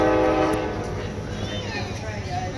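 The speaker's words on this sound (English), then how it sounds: "Is that Amtrak?" An Amtrak train rumbles steadily past at close range, with a drawn-out horn note near the start that fades into a continuous rolling roar.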